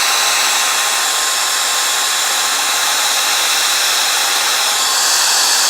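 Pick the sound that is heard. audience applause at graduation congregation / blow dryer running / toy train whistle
blow dryer running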